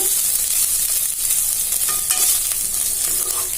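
Dried fish sizzles steadily in hot oil in a pan, a bright continuous crackle heard up close with occasional stirring scrapes and no voices.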